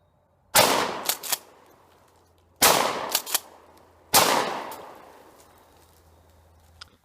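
A Remington 870 Police Magnum shotgun fires three loud, sharp blasts at jugs outdoors, each about two seconds apart with a ringing decay and small echoing tails.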